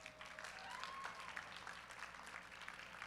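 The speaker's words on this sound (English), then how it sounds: "Give them one more round of applause." Applause from an audience at a college powerlifting nationals awards ceremony, a fairly even wash of clapping with a faint voice underneath, moderately distant.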